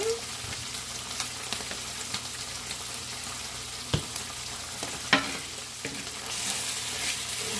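Spices being stirred into a shrimp and chorizo paella frying in a pan produce a soft, continuous sizzle punctuated by occasional sharp clicks of the utensil against the pan, close by.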